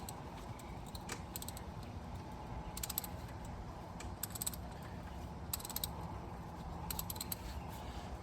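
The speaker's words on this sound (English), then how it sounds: "5/8 spark plug socket. And start taking these out." A ratchet fitted with a 5/8 spark plug socket loosens spark plugs on a 2011 Honda Element, giving short bursts of quick clicking at intervals over a faint background hum.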